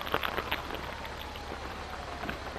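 Steady rain in a video game falls as a dense, even hiss throughout, with scattered sharper patters near the start.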